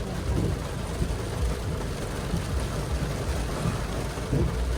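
Steady rain falls across an outdoor parking lot, a continuous close hiss and patter with a low rumbling undertone and no clear breaks.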